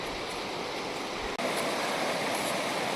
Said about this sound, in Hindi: ये देखो, एक नदी आ रही थी ऊपर से, ये पानी आ रहा है सारा बर्फ़ का।